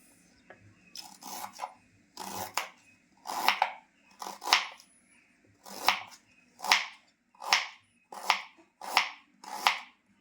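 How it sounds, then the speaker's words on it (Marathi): Ginger is cut into thin pieces with about a dozen crisp, rhythmic knife strokes against a board, each one a short rasping crunch, heard close with no talking. "आता आलं मस्त असं बारीक बारीक कट करून घेतलं, एकदम पातळ पातळ"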